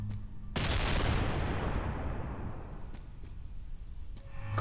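A grenade detonates in an indie video game, a sudden loud blast followed by a long crackling, rumbling decay that slowly thins out, with faint game sounds before and after.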